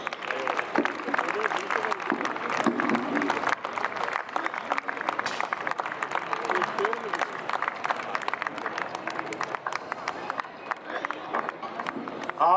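Audience clapping during a Christmas cake cutting at an Arts Council thanksgiving gathering, uneven bursts of many hands mixed with crowd murmur and talk, moderately loud and continuous throughout.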